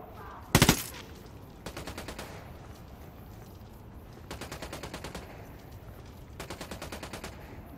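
Gunfire in the tactical shooter Ghost Recon Wildlands: one sharp loud shot, then three long rapid automatic bursts at a steady rattling rhythm, over a low ambient rumble, no talk.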